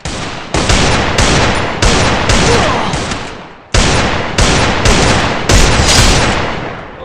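Loud, close shotgun blasts from a video game, about ten sharp booming shots fired in an uneven rhythm, each trailing off into a short echo.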